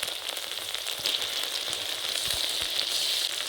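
Tomato paste hits hot oil and masala in a pan, producing a continuous bright, hissing sizzle with scattered pops, close and steady, rising slightly as it cooks.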